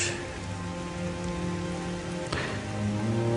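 Rain pours steadily onto surfaces in a broad, constant hiss with dense patter, close and full, with a brief sharper splash partway through and no speech.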